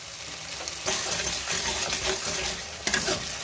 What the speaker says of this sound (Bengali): এক চামচ আদা রসুন বাটা দিলাম, এটাও 10-15 মিনিট ভেজে নেব তেলে।